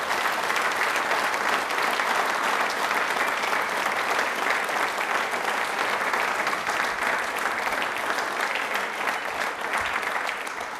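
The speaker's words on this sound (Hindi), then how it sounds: "एक बार वापस से जोरदार तालियां हो जाएं नमन के साथ में बाबा साहेब के लिए।" A large audience gives sustained, loud applause at a quiz programme honouring Dr. Bhimrao Ambedkar's birth anniversary, a dense, even roar of clapping that runs unbroken for about eleven seconds before easing slightly at the end.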